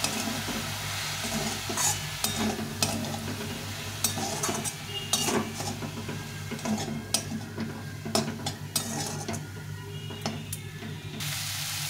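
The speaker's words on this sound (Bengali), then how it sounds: "এই সবটা দিয়ে আমি একটু হালকা একটু জল দিয়ে ভালো করে ভেজে নিই।" Mashed banana flower with turmeric and a splash of water fries in a pan, a steady soft sizzle broken by frequent scraping stirs of a spoon against the metal, close and continuous with no talking.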